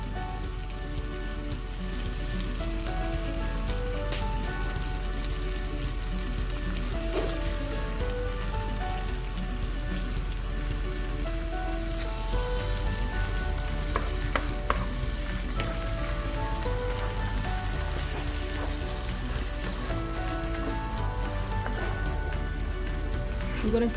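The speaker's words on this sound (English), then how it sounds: "I'm going to fry this nicely" Tomatoes and yogurt fry in a pot for Ambur boneless mutton biryani, a steady close sizzle with fine crackling that runs unbroken for the whole stretch, with no talk over it.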